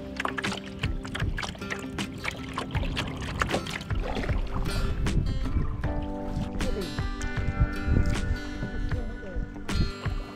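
A wooden canoe being paddled on a river in the Norfolk Broads: soft irregular paddle splashes and drips close by, with faint wind and a low steady background hum throughout.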